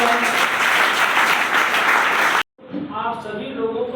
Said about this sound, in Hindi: उन अचीवर के लिए एक बार शानदार ताली होना चाहिए जिन्होंने अचीव किया है